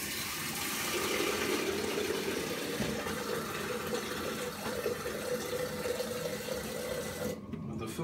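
Water gushes steadily from the drain valve of a self-cleaning industrial filter, a continuous loud broadband rush that holds for several seconds before briefly cutting out near the end.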